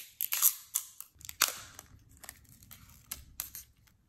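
Protective plastic film peeled off the pump block of an AIO cooler, the Ryujin 240, giving close, crisp crackling bursts that are loud at first and then fade into softer rustles, with no talk.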